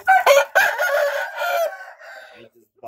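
A rooster crows loudly and close by in one long, wavering call, with a short cluck as it tails off.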